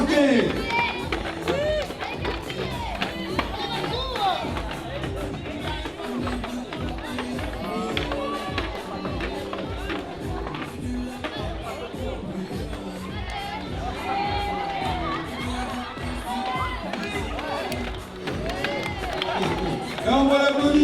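An outdoor crowd cheers and shouts steadily as children run a race, with voices mixed in throughout and footfalls and tapping showing beneath the din.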